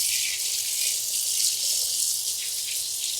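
A kitchen faucet pours steadily as hands are washed clean of turkey, a loud, continuous hissing stream that runs alone without any talk.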